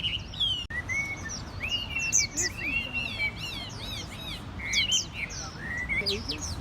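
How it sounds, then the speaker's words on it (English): Hua Mei songbirds sing in a Chinatown bird garden in New York City, a busy overlapping chorus of bright whistled phrases and chirps from several birds, with faint murmur in the background. "listen to the birds sing"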